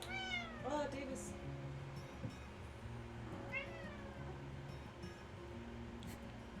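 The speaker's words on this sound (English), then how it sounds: "I don't know if you heard that meowing." A kitten gives a few high, drawn-out meows, one early and another a few seconds later, faint and close over a low background murmur.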